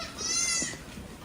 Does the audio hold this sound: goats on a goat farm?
yes